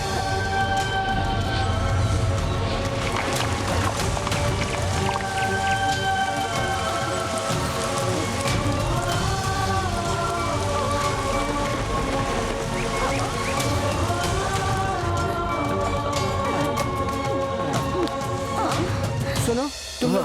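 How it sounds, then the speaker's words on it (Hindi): Heavy rain pours without a break for twenty seconds, a thick, even hiss of drops on surfaces, with sustained musical tones layered over it. "ये बारिश कैसे हो गई?"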